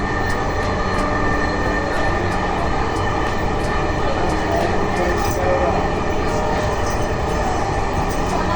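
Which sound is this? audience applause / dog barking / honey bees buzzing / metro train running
metro train running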